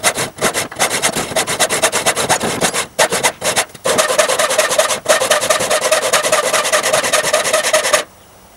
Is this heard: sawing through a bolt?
yes